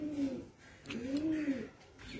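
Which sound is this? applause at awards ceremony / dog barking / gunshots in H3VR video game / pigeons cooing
pigeons cooing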